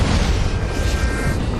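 A CGI explosion sound effect from the ending of the film Reign in Darkness plays as a loud, sustained booming roar, dense and rumbling, with no voices over it.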